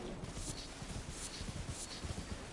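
A horse's hooves clop in a quick, even walking rhythm in Elden Ring, mixed into a dense, noisy game soundscape at moderate volume.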